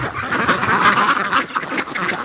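Pekin ducks quack in a dense, continuous chorus of overlapping calls, loud and close, with no pauses.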